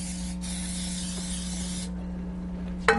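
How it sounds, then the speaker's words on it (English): Pan spray hisses onto cake pans in one steady two-second burst, then a short second spurt, against a low electrical hum. "So, and pan spray it really well."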